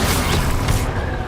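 Incendio fire spell cast in Hogwarts Legacy: a loud, dense whooshing burst with a booming low end, sustained for about a second before its upper hiss drops away.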